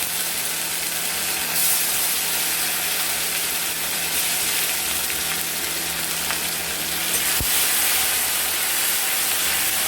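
Chopped tomatoes fry in a hot pan with a dense, even sizzle that holds steady throughout, close and loud, with a faint low hum underneath and no talking.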